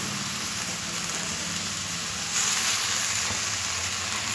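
Spinach cooks in a pan with spiced vegetables and shrimp for a Bengali spinach curry, giving a steady close sizzle that grows slightly louder partway through, with no talking.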